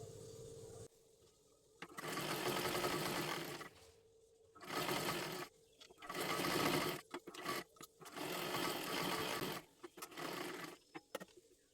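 A sewing machine stitches the sleeve lining of a dress sewn from a saree, running in several close bursts of rapid whirring separated by short pauses.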